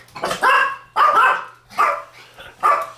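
Dogs bark in four loud, close bursts, evenly spaced over a few seconds, with a faint low hum underneath.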